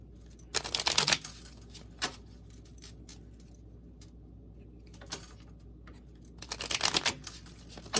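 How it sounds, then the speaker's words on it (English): Tarot cards are shuffled in two quick riffling bursts, a few seconds apart, with soft clicks and handling noises in the quiet between, close and clear. "Two more shuffles I'm hearing."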